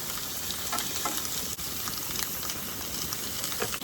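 Steak fries in a pan at a winter cabin, giving a dense, steady sizzle and crackle with small pops throughout, loud and close with no talking.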